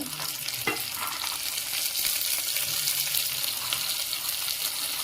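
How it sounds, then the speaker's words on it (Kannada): Chopped vegetables for veg biryani fry in a hot pan with a steady loud hiss and crackle, a couple of sharp clinks of a utensil near the start, and continuous sizzling throughout. "ಆಮೇಲೆ ಇದಕ್ಕೆ ಇವಾಗ ಹೆಚ್ಕೊಂಡಂಥ ತರಕಾರಿಗಳನ್ನ ಆ್ಯಡ್ ಮಾಡ್ತಾ ಇದ್ದೀನಿ"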